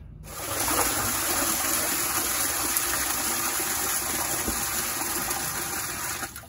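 Steady, loud gush of water pouring into a tank of peach brandy mash, continuous broadband rush lasting several seconds with no talking.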